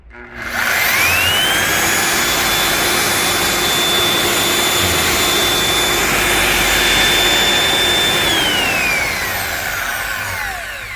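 A used Bayer BDB823A dry core drill runs with its motor and gears going. The high whine winds up, holds loud and steady for several seconds under a dense rushing hum, then begins to wind down.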